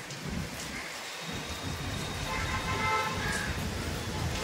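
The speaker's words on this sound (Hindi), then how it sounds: "आज लगातार बारिश चालू है 2-3 दिन से, अभी भी कंटिन्यू चालू है।" Steady heavy monsoon rain, falling continuously for days, pours without a break, a dense hiss with low rumbling beneath, swelling slightly louder toward the end.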